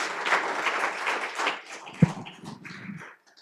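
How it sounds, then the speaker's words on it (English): An audience at a civic talk event gives a round of applause for Backlight Productions: dense clapping from a room full of people that thins out and fades near the end. "And another round of applause for Backlight Productions."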